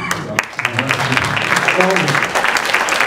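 An audience applauds steadily throughout, a dense wash of clapping with a few voices and cheers mixed in.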